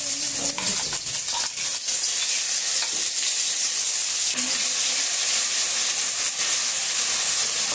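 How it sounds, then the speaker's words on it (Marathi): Mustard seeds, cumin and masala sizzle loudly in hot oil in a home kitchen. The frying makes a dense, steady hiss with scattered pops and spatters, and a few faint clinks can be heard. "थोडीशी मोहरी टाकून घेते, थोडेसे जिरे आणि राहिलेला बनवलेला मगाचा मसाला"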